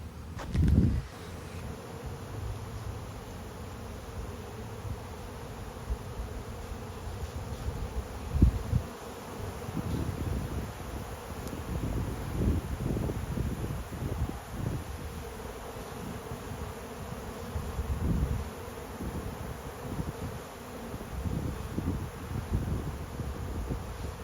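Honey bees buzz continuously during a bee rescue, a dense, steady drone of many insects close to the microphone, with gusty rustling and wind noise rising and falling over it and no voices.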